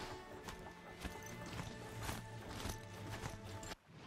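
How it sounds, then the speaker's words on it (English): Horse hooves clip-clop in Horizon Zero Dawn, a steady run of hoof strikes over a game soundscape, with a brief drop near the end. "So cool how you can control these horses"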